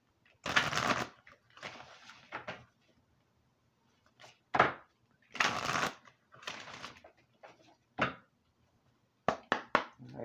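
Halloween Oracle cards are shuffled and riffled in several separate close bursts of papery flutter and snapping, with short quiet gaps between the handfuls.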